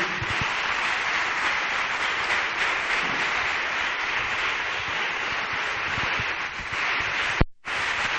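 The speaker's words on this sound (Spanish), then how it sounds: "no dejes de aplaudir, no dejes de aplaudir" A worshipping congregation claps hands continuously in a crowded hall, a loud, unbroken roar of applause that cuts off sharply near the end and then resumes.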